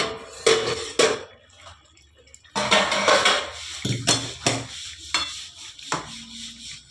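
A metal lid is lifted off a cooking pot of cauliflower and potato curry, giving several sharp clanks and rattles with quieter gaps between them.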